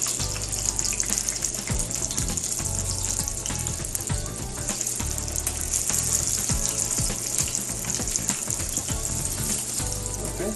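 Chicken cordon bleu frying on high heat in oil, giving a dense, continuous sizzle and crackle with scattered pops, steady and close throughout.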